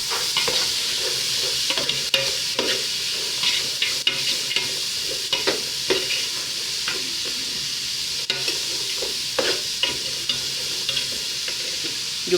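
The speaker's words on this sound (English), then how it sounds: "You fry it for some minutes" Green beans frying for fish fried rice give a close, steady sizzle, punctuated by frequent sharp clicks and scrapes from a spoon stirring the pan.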